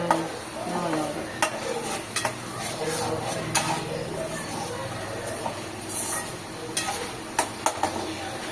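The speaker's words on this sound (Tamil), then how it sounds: "தர தர தர தர தரவென்று வருகிறது எண்ணெய் பிரிந்து" Egg gravy sizzles steadily in a pan as its oil separates, a continuous bright frying hiss broken by soft, irregular scrapes and clinks of a spoon stirring through it, with no one speaking.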